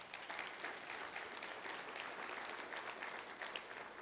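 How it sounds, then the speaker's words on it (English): Steady applause from a community breakfast audience, dense and sustained for the whole stretch with no pauses, fairly even in loudness and moderately distant. "Give her a round of applause."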